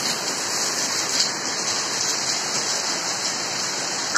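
Heavy rain pours in a steady, dense roar that never lets up, close and loud throughout, with no voices over it.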